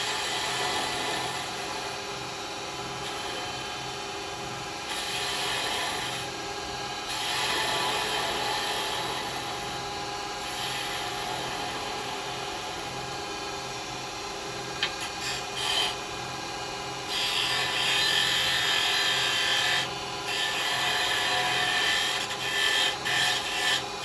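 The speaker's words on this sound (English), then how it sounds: "Now I'll just use my sander to do that" A sander working on wood spinning on a lathe while a snowman is turned: a steady close rubbing rasp that swells and eases in short passes, with no voices.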